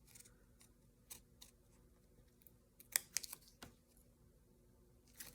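Scissors trim paper hair on a handmade Christmas gnome, giving a few quiet, close snips in a sparse irregular cluster over a low background hiss, with no talking.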